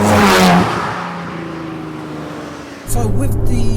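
A Liberty Walk body-kitted Nissan GT-R engine roars loud and close, dips to a steadier drone, then surges again with a fresh revving burst near the end.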